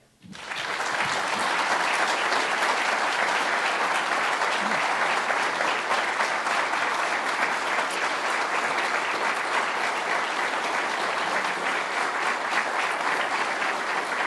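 An audience on Prince Edward Island welcomes Preston Manning with loud, sustained applause that rises sharply and holds steady for over ten seconds.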